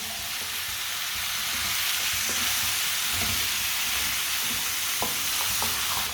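Turnip (shalgam) mixture frying and being stirred in a pan, a steady broadband sizzle throughout with a few soft scraping stir strokes near the end, no talking.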